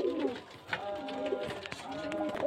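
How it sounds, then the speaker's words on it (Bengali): Pigeons, including biscuit-coloured birds kept for sale, coo in low repeated murmurs close by, with other soft bird calls and background noise throughout. "এই যে দেখতে পাচ্ছেন পায়রা"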